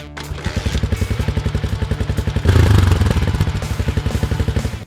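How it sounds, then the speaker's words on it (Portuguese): A motorcycle adapted into a small farm tractor in rural Paraíba, running close and loud with a steady rapid engine pulse and clattering mechanical knocks. The engine swells briefly midway, then settles back into its even chugging rhythm. "motos estão sendo adaptadas para virar mini tratores para o trabalho agrícola"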